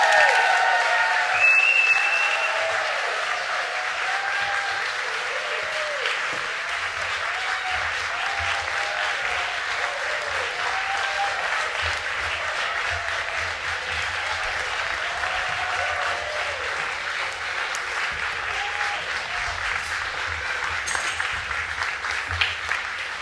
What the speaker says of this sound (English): They're waiting for a bit of applause before they come on the stage.